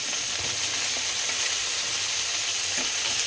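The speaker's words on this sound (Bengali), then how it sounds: "এবার বেগুনটা ভাজছি, বেগুনটা এপাশের তরকারির জন্য ভাজছি।" Eggplant frying in a pan for a curry, a dense, loud and continuous sizzle up close with faint scraping underneath and no talking.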